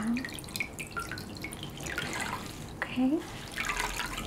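Warm water drips and trickles into a basin in short splashes and runs, close and soft, with a person speaking briefly and other voices under it.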